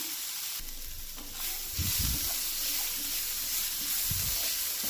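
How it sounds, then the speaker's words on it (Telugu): Vegetables with a little garlic ginger paste fry in a hot pan, a steady close sizzle with a few soft stirring scrapes and bumps partway through, no voices. "ఇదంతా బాగా ఫ్రై చేసుకుందాము ఒక ఫైవ్ మినిట్స్"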